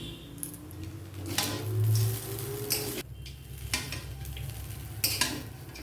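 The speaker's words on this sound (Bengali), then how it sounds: "এবার বাদামগুলো দিয়ে দিয়ে আবারও নেড়ে দেবো।" Peanuts stirred into a pan of vegetarian chow mein with vegetables, a spatula scraping and tossing in steady strokes over a soft sizzle, with a few clinks of utensil on pan.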